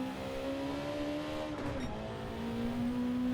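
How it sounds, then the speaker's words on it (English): A Honda NSX '92 race car with an engine swap in Gran Turismo 7 holds a steady, droning engine note through a Le Mans corner, dipping briefly as it slows, then rising again, faint and alone. "Get the car slowed down into this corner."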